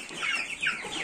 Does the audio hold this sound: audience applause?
no